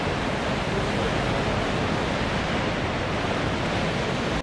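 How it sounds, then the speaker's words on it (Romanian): Sea waves wash onto the shore in a steady, broad roar, loud and continuous with no distinct breaks, and no talk over it. "dacă se aud valurile mării"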